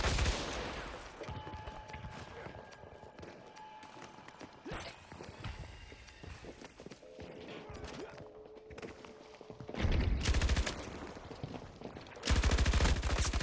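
Gunfight in the video game Battlefield 2042 with an RPT-31 machine gun: continuous rattling gunfire and shots, swelling into two loud, sustained bursts near the end.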